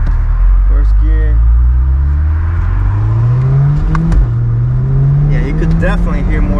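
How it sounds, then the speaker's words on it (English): A 2022 C8 Corvette with its roof panel removed pulls hard in first gear, the engine note climbing steadily in pitch, loud and close from inside the cabin, with a brief shift-like dip midway and light talk over it. "Yeah, you could definitely hear more of the car."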